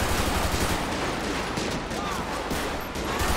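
Sustained gunfire in a police-patrol shootout in the video game GTA 5 with the LSPDFR mod, a dense, continuous roar of rapid shots filling the scene throughout.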